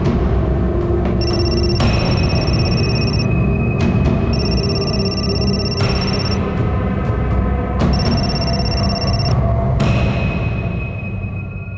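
A telephone rings loudly and steadily in repeated bursts of electronic trilling, with no talking over it.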